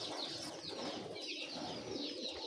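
A flock of pigeons cooing and rustling at a loft, soft overlapping coos and murmurs with light wing flutters, faint and fairly distant with no talk.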